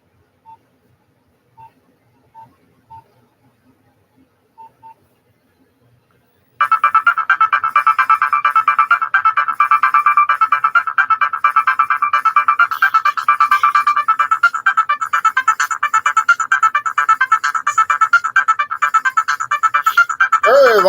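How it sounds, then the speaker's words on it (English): An old Nokia 6010 mobile phone plays a loud, bright electronic melody that repeats in a steady rhythm and fills the room. It follows a few faint, sparse button beeps and ends abruptly. "And I'll do a ringtone."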